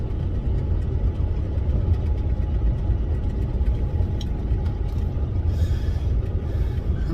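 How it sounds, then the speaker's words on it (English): Semi truck engine losing speed on the road, a steady low rumble heard from inside the cab, loud and unbroken throughout with no talk. "I got my foot on the throttle and it's decelerating."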